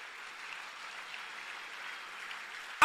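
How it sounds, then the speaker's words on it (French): Church congregation in Orlando applauding together, a steady, fairly faint wash of many hands clapping from a distance, unbroken to the end, then a brief sharp knock up close. "Applaudissez."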